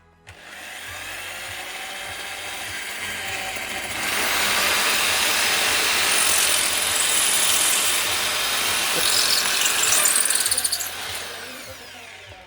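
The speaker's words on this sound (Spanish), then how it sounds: "He puesto en el taladro la broca del número 6 y vamos a hacer el primer agujero" An electric drill with a number 6 bit whirs steadily at high pitch, bearing down through an IKEA Kallax shelf for several seconds before winding down; no voices.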